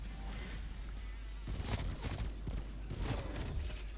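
Dual-wielded pistols fire in a zombies mode of a video game, rapid overlapping shots with booming impacts in two dense bursts over a constant low rumble, fairly faint overall.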